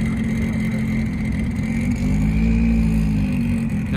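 Traffic rolls through Place Vauban in Monaco, a mix of Porsches, 205 GTIs, Audis, British and big American cars, their engines humming steadily close by with a continuous mid-range drone and a slight rise in revs toward the middle.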